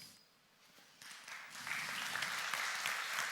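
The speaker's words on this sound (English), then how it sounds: "Once again, applause." A conference audience applauds at the end of a presentation on meme coins, the clapping starting sparse and swelling into steady, broad applause from a sizeable crowd.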